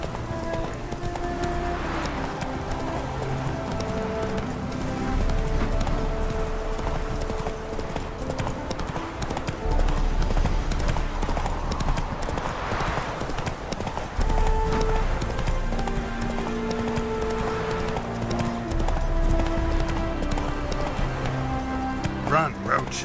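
Roach, Geralt's horse in the video game The Witcher 3, gallops with rapid rhythmic clip-clop hoofbeats over a full bed of game music, and a voice urges the horse on.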